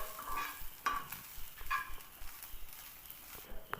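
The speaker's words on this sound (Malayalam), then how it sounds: "ചെറിയ ഫ്ലെയിമിൽ നമുക്ക് വറുത്തെടുക്കാം" Shallots, garlic, curry leaves and coconut fry on a low flame for a fish curry, with close scraping stirs and a light sizzle in short irregular bursts.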